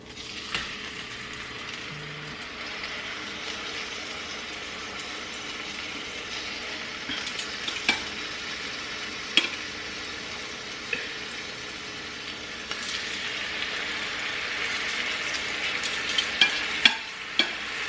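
Jerk salmon fries skin side down in a hot pan with a steady, close sizzle that swells slightly over time, punctuated by occasional small pops and clicks.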